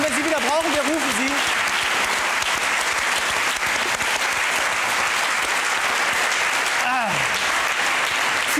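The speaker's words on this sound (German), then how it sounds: "viel großen Applaus nochmal für Herrn Frost" Loud, sustained studio audience applause for Herr Frost on a TV talk show, dense clapping filling the whole stretch, with brief vocal cheers near the start and again late.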